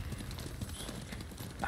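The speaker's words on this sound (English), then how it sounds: "Damn, that's a beautiful horse." Horse hooves clip-clop steadily in the Ghost of Tsushima video game, a quick run of close, even hoofbeats lasting under two seconds with no talk over them.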